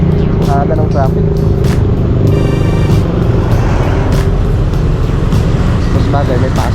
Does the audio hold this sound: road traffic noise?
yes